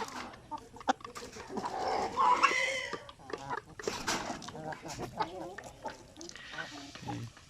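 Hens, some of them older, cluck and squawk intermittently around a yard, mixed with scattered clatter and a person talking in the background.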